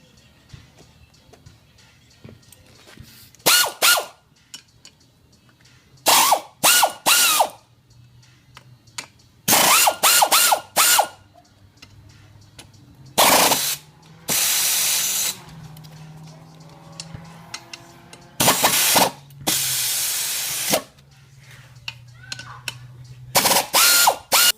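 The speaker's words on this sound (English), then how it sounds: "I'm going to remove these sprockets right here with a 14mm air ratchet." Short repeated bursts from a 14mm air ratchet backing out the rear sprocket bolts on a 2000 Yamaha YZF-R6, each loud pneumatic whir lasting about a second, with pauses and a few longer hissing runs between.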